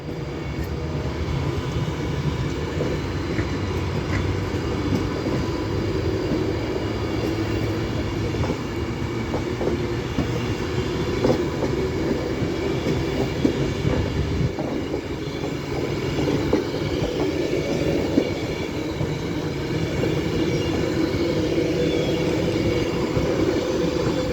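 A train departing Stoke-on-Trent station rumbles steadily along the tracks, with continuous rolling wheel noise and occasional faint squeals, no voices.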